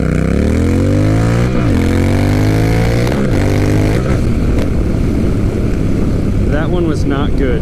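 A Honda Rebel 1100 motorcycle accelerates hard from a standstill toward 60 mph, its engine pitch climbing and dropping through several quick upshifts, loud and close, with heavy wind rush building toward the end.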